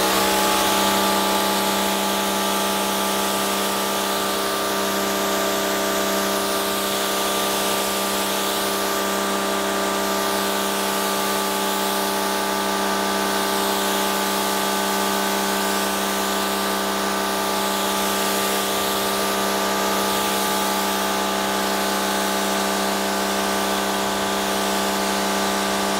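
Soap sprays continuously onto the hood of an Audi SQ5 during an exterior wash, a loud, steady hiss with a pump-like drone that holds unbroken for the whole stretch, with no talking.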